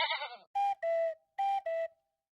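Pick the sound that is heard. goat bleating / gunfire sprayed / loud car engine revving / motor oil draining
goat bleating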